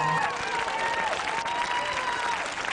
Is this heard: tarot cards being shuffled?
no